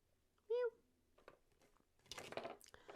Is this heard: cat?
yes